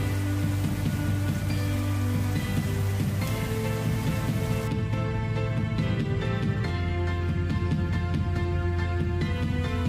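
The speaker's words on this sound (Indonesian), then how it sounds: "baru saja selesai penyemprotan langsung turun hujan" Steady rain pours down on a field of young chili plants grown without mulch, right after spraying, a continuous dense patter with no talk over it.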